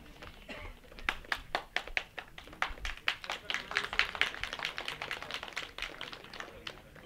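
An audience at the Kedar film grand premiere claps, starting with a few scattered sharp claps that build into fuller, rhythmic applause, fairly close and moderately loud.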